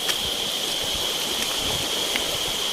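Steady broadband rush of a jungle waterfall pouring over rocks, continuous and fairly near with no voices.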